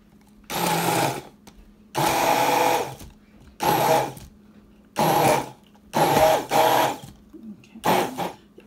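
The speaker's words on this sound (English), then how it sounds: "So now I'm just gonna grab my stick blender and just blend that." A handheld stick blender whirs in six or seven short bursts of one to two seconds each, separated by brief pauses, loud and close in a quiet kitchen.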